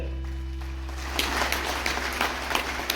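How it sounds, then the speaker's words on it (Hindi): Applause at a corporate zonal celebration event builds after a low, steady hum and continues as a dense clatter of many hands clapping, fairly loud. "मैम के लिए एक जोरदार ताली हो जाए सर"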